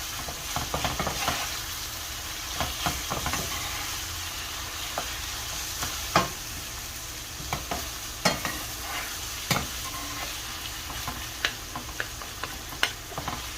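Filipino picadillo cooks in a pan, giving a steady soft frying hiss broken by irregular sharp spoon taps and scrapes, close and moderately quiet, with no talking.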